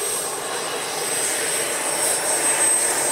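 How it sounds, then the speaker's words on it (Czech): A Super Scorpion model jet landing at an airfield show, its turbine a steady broad roar with a thin high whine, loud and fairly close throughout, with no talk. "krásné přistání letounu Super Scorpion v podání Hermana Schnella"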